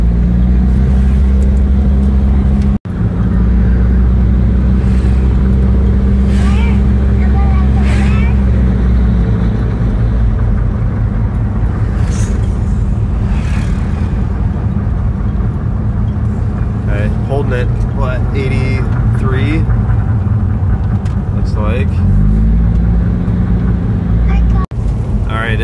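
A Mitsubishi Pajero fitted with a new radiator and alternator, engine droning loud and steady under hard acceleration, a deep continuous rumble throughout with a voice talking over it.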